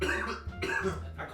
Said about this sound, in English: I caught your cough, whatever that was.